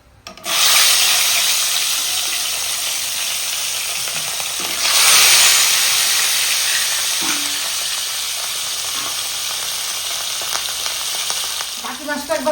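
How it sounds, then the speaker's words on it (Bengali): Rohu fish pieces fry in a pan with a strong, steady sizzle. A spatula scrapes a few times and faint utensil clinks come near the end, with no speech. "বাকি মাছটা আমি একইভাবে ভেজে নেব"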